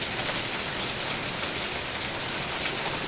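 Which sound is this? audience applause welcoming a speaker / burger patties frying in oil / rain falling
rain falling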